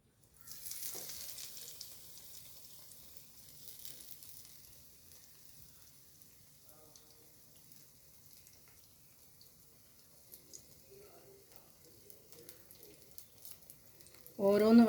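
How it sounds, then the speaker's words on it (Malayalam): Batter-dipped banana flower fritters (pokkavada) hit hot oil and give a faint, steady sizzle that fades to a low simmer, with a sharper clatter right at the end. "നമ്മൾ എണ്ണ ചൂടാക്കിന്ന് ഇതിങ്ങനെ മാവിലേക്ക് മുക്കിയിട്ട് ഇട്ട് കൊടുക്കട്ടെ നമുക്ക്"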